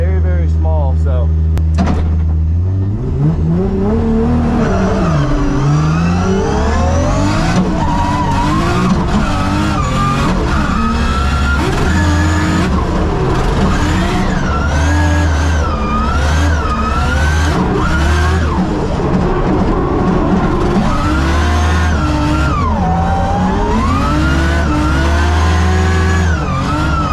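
A race car engine screams through a qualifying lap, loud and close, its pitch rising and falling with each gear change and corner, with brief tyre squeal and voices talking over it throughout.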